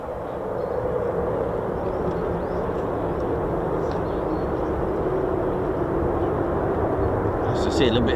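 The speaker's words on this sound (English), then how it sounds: "Nice to see a little bit of cheeky afterburner there" A US Air Force F-15 or F-35 fighter jet on afterburner at RAF Lakenheath gives a steady, broad, rumbling roar that holds loud for the whole stretch, heard from a distance outdoors.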